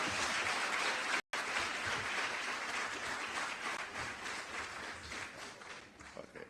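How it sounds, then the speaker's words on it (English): Audience at a Jamaican diaspora town hall meeting in Port of Spain, Trinidad applauds in a sustained, dense wave of clapping that fades slightly toward the end. "One more time. Big applause."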